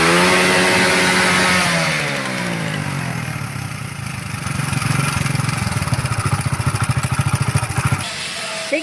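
A Honda CD 70 motorcycle from 1988, fitted with a new ignition point, starts up and revs close by. The engine climbs and falls, then settles into a fast, steady idle with a rapid, even putter.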